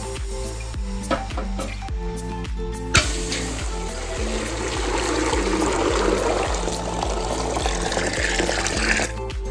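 Rice is washed in a pot of water, with sloshing and trickling over a steady low background hum, close and moderately loud.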